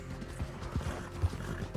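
Horse in the video game Red Dead Redemption 2, soft galloping hoofbeats with snorting and neighing, fairly quiet and brief without talk.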